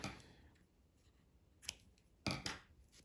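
Scissors snip through yarn to finish a crocheted men's hat, two crisp cuts near the end of an otherwise quiet stretch.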